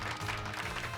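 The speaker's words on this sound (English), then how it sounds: "Give Pikachu a round of applause, everyone." Crowd applause sound effect from the game Pokemon Violet, a steady dense wash of clapping lasting about a second at moderate level, with no voices over it.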